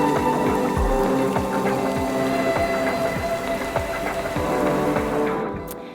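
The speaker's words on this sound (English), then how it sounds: "it's probably raining over there" Steady rain pours on a sailboat in New Zealand, a dense continuous patter of drops drumming on the deck and surfaces with scattered heavier splashes, loud and close throughout before easing slightly at the very end.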